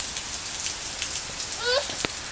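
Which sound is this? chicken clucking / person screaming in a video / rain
rain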